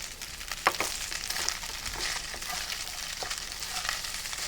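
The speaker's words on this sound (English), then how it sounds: "you can definitely hear the sizzling sound" Char siu BBQ pork fried rice sizzles steadily in a hot wok, a continuous bright frying hiss broken by a few sharp spatula clicks and scrapes.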